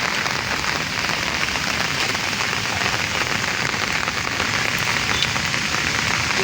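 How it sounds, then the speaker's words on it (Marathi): A downpour on a fishing trip pours down without pause, a thick, unbroken roar of raindrops spattering close by, steady in loudness from start to finish, with no voices. "जाम पाऊस पडतो मित्रांनो"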